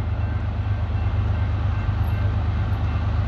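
A CSX M372 freight train passes, led by EMD diesel locomotives including a 1976 Conrail heritage unit and a GP38-3, producing a loud, steady low engine rumble with a pulsing throb that continues throughout.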